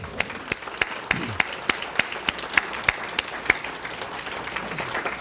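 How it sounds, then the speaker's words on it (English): A crowd applauding at an American Legion service awards ceremony, a steady wash of clapping heard from some distance, with a few sharp close claps standing out at a regular beat and faint voices underneath. "a round of applause."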